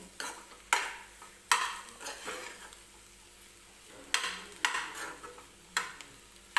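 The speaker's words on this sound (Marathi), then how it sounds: "याच्यामध्ये मी कोथिंबीर टाकून येते आणि छान असं मिक्स करून घेऊया" Upma with coriander is stirred in a pan, with repeated bursts of scraping and clattering from a spoon against the metal and a faint sizzle between strokes.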